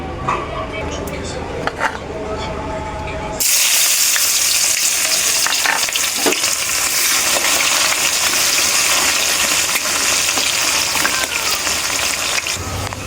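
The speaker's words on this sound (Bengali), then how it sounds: "তো এই তেলেই আমি পেঁয়াজ কুচিটা দিয়ে দেব।" Chopped onions hit hot oil with an abrupt, loud sizzle that keeps hissing and crackling steadily, after some quieter kitchen clatter.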